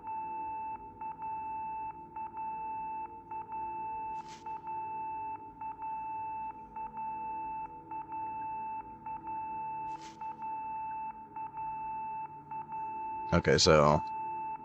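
Persistent, annoying electronic beep tone sounds in the horror game Project Zero: Mask of the Lunar Eclipse, pulsing in a regular on-off pattern with faint clicks, then someone briefly speaks over it near the end.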